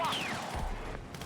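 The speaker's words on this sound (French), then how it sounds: "À droite, un fusil à pompe, très loin." Distant shotgun fire echoes across a Battlefield 6 match, a brief burst of far-off shots under ongoing game noise.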